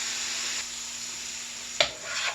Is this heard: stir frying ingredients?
yes